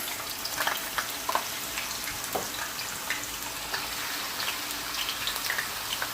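Flour-dusted potato fries frying in a large frying pan give a steady bubbling sizzle with scattered small pops and crackles, at moderate volume, with no voices.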